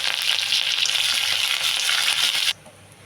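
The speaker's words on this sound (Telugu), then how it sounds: "ఇప్పుడు తాలింపు వేగిపోయింది" Tempering of mustard seeds, cumin, dried red chillies, crushed shallots and curry leaves sizzles loudly in hot oil for a tomato and ivy gourd chutney, a steady crackling hiss that cuts off sharply near the end, with no talking.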